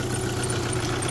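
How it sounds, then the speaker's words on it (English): An Alfa Romeo Spider engine idling after warming up under a restoration, a steady even rumble held close and loud, with no breaks or voices. "The engine sounds better once it's warmed up."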